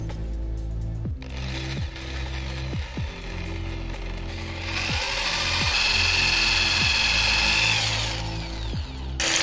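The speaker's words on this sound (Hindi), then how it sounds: "जो नट का साइज है उसी साइज का मैंने ड्रिल मारा, एकदम परफेक्ट होल।" A power drill bores a hole in metal while dual horns are fitted to a Yamaha FZ motorcycle, its motor whining loud and close in repeated short bursts with brief pauses and rising strain, with no talk.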